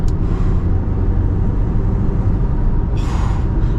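Heavy, steady low engine and road rumble from a 2024 Audi Q5e plug-in hybrid accelerating hard in sport mode, with a short airy turbo whoosh rising near the end.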